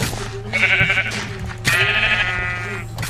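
Sheep bleat twice in the Minecraft Mineplex arcade game, two drawn-out wavering cries over a steady background hum, loud and close with no talking.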